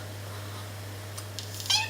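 A pet cat gives a short meow near the end, faint and brief over a steady low electrical hum in a quiet room.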